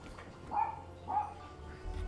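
A dog in the room overhead barks twice, two short, muffled, moderately loud barks about half a second apart against a quiet background hum.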